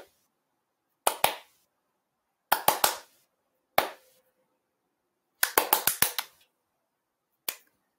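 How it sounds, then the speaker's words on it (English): Bare hand claps in an uneven rhythm during a dance lesson: a pair, then three quick ones, a single, a fast burst of about five, and a last lone clap, crisp and close with silence between groups. "Now try clapping at an uneven beat."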